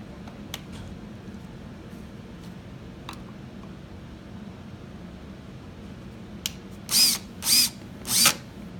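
A power drill drives screws into a BMW 12V ride-on toy motorcycle: three short, fairly loud whirring bursts in quick succession near the end, following a stretch of quiet room noise with a few faint clicks.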